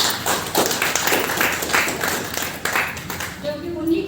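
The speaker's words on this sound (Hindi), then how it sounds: "डॉक्टर भद्रा सर के लिए जबरदस्त ताली बजाइए" An audience at a DXN product testimonial gathering claps for Doctor Bhadra, a steady patter of many hands that fills the whole stretch, with a voice faintly mixed in near the end.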